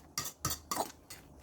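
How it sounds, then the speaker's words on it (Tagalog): A spoon scrapes and clinks against a bowl while stirring pizza dough mixture, four distinct close metallic strokes spaced unevenly over a quiet background. "At haluin natin mabuti. Dapat halong-halo yan mga loads."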